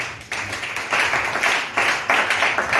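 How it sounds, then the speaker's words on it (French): Congregation at a French-language church service clapping and applauding to acclaim the Lord, a steady broadband wash of hands swelling in a few waves over a couple of seconds, fairly close and without talk. "On acclame le Seigneur."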